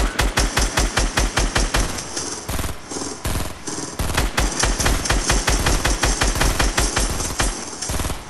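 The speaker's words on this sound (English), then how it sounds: "She's shooting at it." Rapid automatic gunfire in a video game, loud bursts of sharp rhythmic shots with brief pauses between volleys, dominating the scene without talk.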